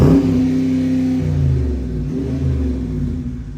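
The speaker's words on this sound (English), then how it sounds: "y'all wanna get a couple revs and get a couple revs in?" A 2022 Dodge Challenger R/T Plus engine revs loudly nearby, a deep rumbling roar that rises and then settles back toward idle.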